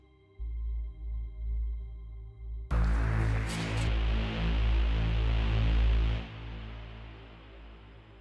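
A sustained, buzzy JP6K synth saw pad with reverb holds a chord while its filter opens and closes, brightening and darkening the tone before fading. No voices.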